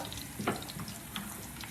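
Cumin seeds and slit green chillies fry in hot oil, giving a soft, steady sizzle with a few faint stirring clicks and no voices.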